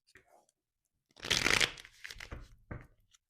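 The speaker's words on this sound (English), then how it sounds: "Now we're going to clarify the cards" Tarot cards being shuffled close up, a burst of riffling and flicking that settles into a few softer card slaps, alone without talk.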